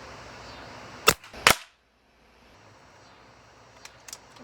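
Two sharp, loud cracks close together come from a regulated Beeman Raider air rifle fired at targets at 25 yards. A short silence follows, then faint clicks and ticks.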